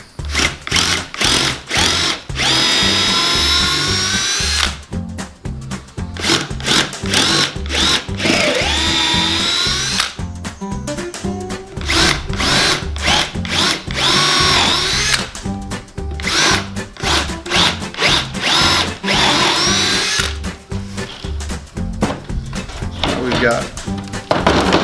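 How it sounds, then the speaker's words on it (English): A power drill bores pilot holes about halfway into wood with a 1/2-inch bit for countersunk screws on a wooden raised-bed frame, running in loud repeated bursts with short pauses between holes, close by. "I'm just pre-drilling about halfway down through using a 1/2-inch bit so that I can basically put my countersink all of these screws"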